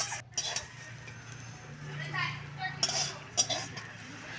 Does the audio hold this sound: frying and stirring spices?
yes